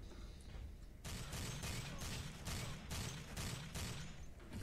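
Gunfire from the sci-fi shooter game Alpha Prime: loud, sustained bursts of rapid shots repeat in a steady rhythm after a quieter opening, dense and close throughout.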